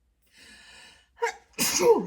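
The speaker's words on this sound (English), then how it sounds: "Yep, one sneeze is yes." A single loud sneeze up close, preceded by a faint tonal hum and a sharp intake of breath.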